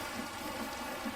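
Rain falling in a Minecraft world, a steady broadband hiss of drops on surfaces with faint patter, continuous and alone without talk.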